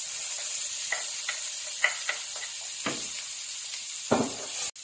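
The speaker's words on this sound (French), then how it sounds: "Maintenant, je vais ajouter les tomates." Tomatoes tipped into a hot pan of spices for butter chicken and stirred, a quiet background sizzle with several short scraping stirs of a spoon spaced irregularly, one louder scrape near the end.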